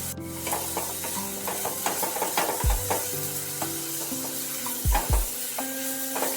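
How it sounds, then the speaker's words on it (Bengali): Carrot, beans and capsicum fry and sizzle steadily in hot oil while being stirred, with intermittent scrapes and a few low knocks of the utensil against the pan throughout. "তিনটে সবজিকেই নাড়িয়ে চাড়িয়ে নিতে হবে আর একটু ভেজে ভেজে নিতে হবে।"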